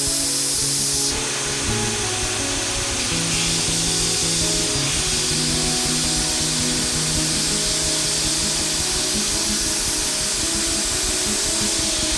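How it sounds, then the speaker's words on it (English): A belt sander grinds a steel Viking war seax blade, a loud, continuous, close hissing rasp that runs throughout without pause or speech. "We'll throw it on the belt sander."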